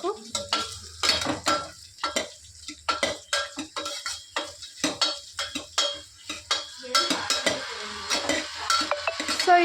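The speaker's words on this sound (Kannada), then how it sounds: "ಸೊ ಇವಾಗಿದು ಗೋಲ್ಡನ್ ಬ್ರೌನ್ ಬರೋವರೆಗೂ ಈ ಥರ ನಾವು ಫ್ರೈ ಮಾಡಬೇಕು" Veg pulao ingredients frying and being stirred in a pan until golden brown, with repeated scraping clinks of a spoon against the metal over a low sizzle, close and fairly loud in an irregular rhythm.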